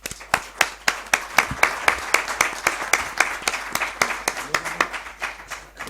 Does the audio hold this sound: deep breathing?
no